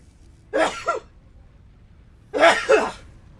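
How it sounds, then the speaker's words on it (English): Two sneezes in a row from one nearby person, each a sharp inhale catch followed by a burst, separated by a pause of about a second and a half over a quiet room. "Oh, I'm gonna sneeze."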